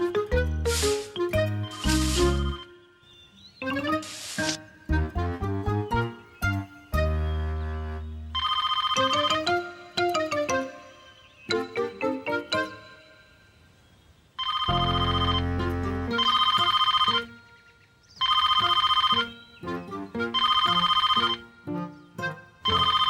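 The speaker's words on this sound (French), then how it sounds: "Je vais lui téléphoner et l'inviter à se joindre à nous." A telephone in a Miffy cartoon rings loudly in repeated bursts over a musical score, with pauses between rings.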